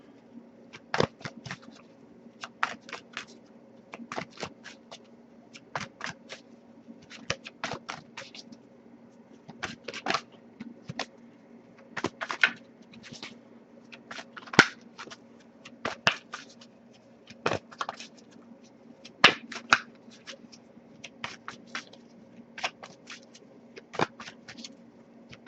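A pre-shuffled oracle card deck is handled and riffled through in search of one card, giving soft, close, irregular flicks and snaps of paper cards against a quiet background.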